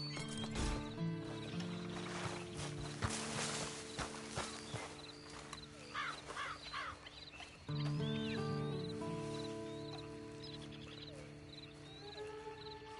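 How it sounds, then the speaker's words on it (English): Horse hooves clip-clop at a walk in Red Dead Redemption 2, mid-distance against layered game ambience and tonal music, with a brief whinny and other scattered animal and bird sounds around it. "Then you better get on this horse."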